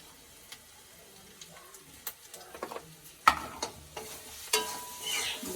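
Spice paste of ground cumin, red chilli, turmeric and salt stirred in a pan, with quiet sizzling and scattered scraping and clinking of a spatula that grow busier and louder toward the end.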